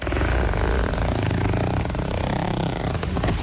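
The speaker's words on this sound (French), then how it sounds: "Rien que le son d'une fermeture éclair, écoutez." A zipper being pulled: a steady, buzzing rasp runs continuously, loud and close, rough and engine-like, ending with a few sharper scraping pulses.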